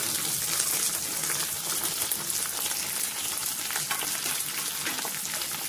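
Green peas drop into a hot tempering of spices in a pan for rava upma, setting off a loud, continuous hissing sizzle close by.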